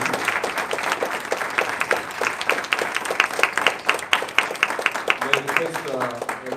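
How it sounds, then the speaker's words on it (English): Audience applause at a Sri Sathya Sai Maha Aradhana Day gathering, a steady run of close, crisp hand claps that holds throughout and turns more scattered near the end as a voice begins. "let us give one more round of applause to brother"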